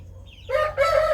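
A rooster crows loudly at close range, a short cock-a-doodle-doo burst that breaks off and resumes, with faint chicken calls before it on a backyard poultry farm.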